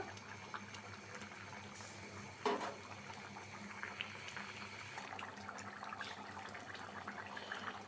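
A thin hilsa fish curry with snake gourd, tomato and potato simmers in a pot, a soft continuous bubbling and hiss at low level with a brief clink of a utensil partway through.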